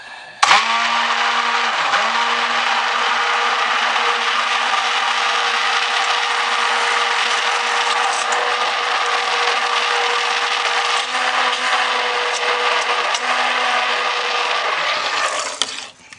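Stick blender whirring through thick soap batter in one long continuous burst, loud and close, with a slight change in pitch as it works the mix before cutting off.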